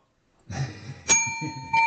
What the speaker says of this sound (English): I hear a bell.